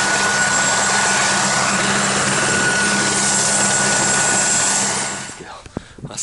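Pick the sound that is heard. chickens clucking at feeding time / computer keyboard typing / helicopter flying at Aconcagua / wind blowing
helicopter flying at Aconcagua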